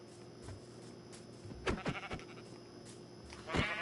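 Minecraft sheep bleat twice in quick succession, then once more a moment later, each a short wavering cry over a steady low game hum, with no talk.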